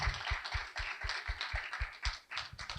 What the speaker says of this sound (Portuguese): Eu queria pedir, antes de tudo, uma salva de palmas para Cidinha da Silva